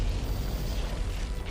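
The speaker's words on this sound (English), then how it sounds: "Just all the explosions." Spaceship explosions in the Eve Online video game, a dense low rumbling roar of overlapping blasts, loud and continuous over a short burst.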